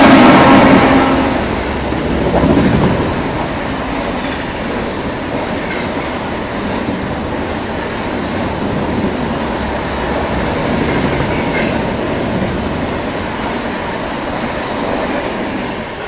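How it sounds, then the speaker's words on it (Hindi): The 12559 Shiv Ganga Express, running Banaras to New Delhi and hours late, rolls past a station at Hathras Junction, a loud steady rumble and rattle of coaches that swells at first, then holds for the whole stretch with no talk. "तो भाई ये आ गई 12559 शिव गंगा एक्सप्रेस बनारस से न्यू दिल्ली"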